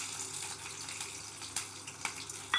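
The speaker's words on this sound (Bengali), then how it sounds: "তেলটা গরম হয়ে গেছে, এখন দিয়ে দিচ্ছি কিছুটা ছোলার ডাল আর কাঁচা লঙ্কা।" Chana dal and green chillies tipped into hot oil make a hissing, rushing sizzle with small crackles, continuous and fairly close, and no one speaks.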